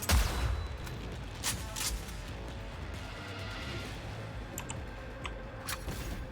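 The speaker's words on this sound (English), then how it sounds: "Somebody's shooting me from up there." Gunfire from a shooter firing down from above in Cyberpunk 2077, scattered cracking shots over a dense, steady game soundscape.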